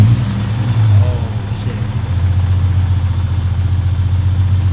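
A Toyota Supra with a JZ engine starts up and settles into a steady, throbbing idle, a low, even rumble that continues near and loud after the start.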